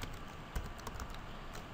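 Someone types on a computer keyboard, soft clicking keystrokes in an uneven run with one sharper tap, close up and quiet, no speech.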